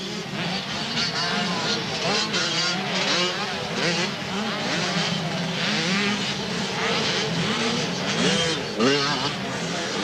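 Junior 80cc motocross bikes race in a supercross final at Penrith Park, their engines buzzing and revving in a continuous, shifting drone under excited race commentary.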